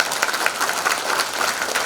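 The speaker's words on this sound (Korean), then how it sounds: "어려운 시간 내주신 소장님께 큰 박수 부탁드리겠습니다." A lecture audience claps steadily and densely for a historian and author being welcomed to the stage at a Namyangju city hall talk, a continuous wash of many hands with no voices over it.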